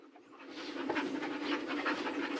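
A hunting hound pants close by, rapid rhythmic breaths that build steadily in loudness, heard alone without talk.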